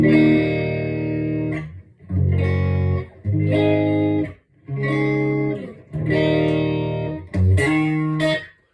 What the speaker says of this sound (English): So this is my clean tone on the guitar, neck pickup